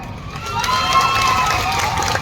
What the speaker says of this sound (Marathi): पुरावा म्हणून एक वेळा जोरदार टाळ्या वाजवा